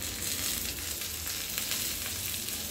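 Coriander and salt stirred into cut capsicum frying in a pan over a low flame, giving a steady close sizzle with faint scraping from the stirring.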